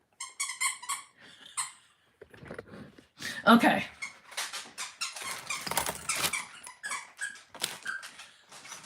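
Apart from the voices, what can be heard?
dog chewing a squeaky duck toy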